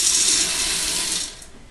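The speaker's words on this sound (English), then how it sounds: "And I'm going to pour the beans" Dry beans pour into a pressure cooker with a steady rushing, rattling hiss lasting over a second before tapering off, close and fairly loud, with no voices.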